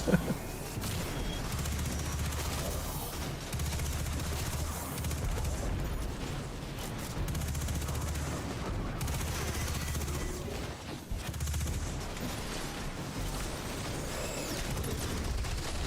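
Gunfire in the video game Destiny, a dense continuous barrage of rapid shots with short pauses, loud and close, under game music and effects.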